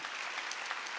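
Congregation clapping together during a Korean Protestant church's Wednesday worship service, a dense, steady wash of many hands filling the room without a break, with no voices rising above it.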